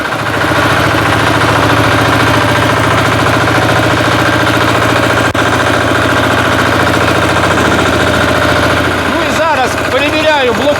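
A walk-behind tractor (motoblock) engine runs loudly and steadily close by as the machine drives in high and low gear and reverses, with a low droning hum throughout. Short squeaky mechanical sounds come near the end.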